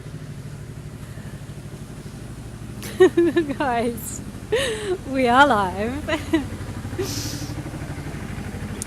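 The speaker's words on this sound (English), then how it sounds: "Can we get away from this tractor? Is it literally chasing me?" A slow tractor drives nearby, its engine a steady low rumble running under the whole stretch while someone speaks over it.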